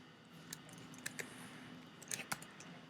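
A few sparse, quiet keystrokes tap on a computer keyboard in a calm indoor room, isolated clicks spread over a faint background hush.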